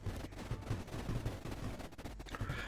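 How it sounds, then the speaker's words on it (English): Cannons firing in Creeper World IXE, a fast stream of faint, soft thumping shots in an irregular rhythm, with distant booming low in the mix. "Just so his cannons can do their work."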